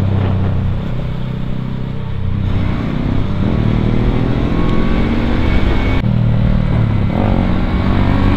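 An MT15 and a Duke 200 motorcycle race side by side in a drag race, their engines droning loud and close with a busy rasping exhaust tone. The pitch shifts as they accelerate and change gear, and wind roar runs throughout.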